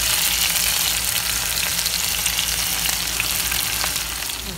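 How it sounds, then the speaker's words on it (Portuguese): Rice browning with seasoning in a frying pan, a loud continuous close sizzle that stays steady throughout and eases slightly at the end. "Aqui já estou dourando meu arrozinho, uma misturadinha, fritando um pouquinho o arroz."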